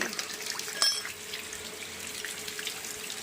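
Water rushes steadily out of a pressurised household water filter as a release switch is pressed, a continuous close hiss with a brief sharp click or splash near the start.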